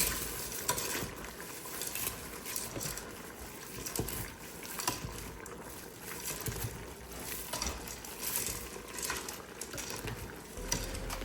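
Dense stirring and pushing of a whole 12-ounce pack of egg noodles down into a pot of chicken noodle soup, with steady sizzling, bubbling liquid and continuous scraping motion close up, no talking.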